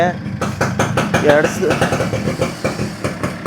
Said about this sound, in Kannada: ಗುರು ಗಾಡಿ ಯಾವ ಥರ ಐತೆ ಸೌಂಡು ಅಂತ ತೋರಿಸ್ತೀನಿ ಅಂತ ಹೇಳಿದ್ದೆ ನಿಮಗೆ